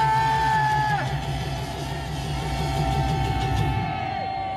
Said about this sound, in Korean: 5초간 대한민국 만세 하며 소리 지르면서 태극기 들겠습니다